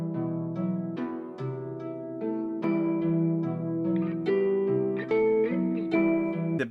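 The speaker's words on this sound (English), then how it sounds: "And so that half speed part sounds like this." A drill-style guitar melody plays at half speed, plucked notes ringing out in a slow, steady sequence with sustained harmonic tones, clean and alone.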